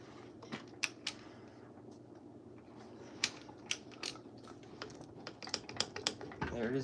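Intermittent clicking from a Plymouth engine during a rebuild, a scatter of sharp irregular ticks and clicks over a low steady background, fairly faint and close.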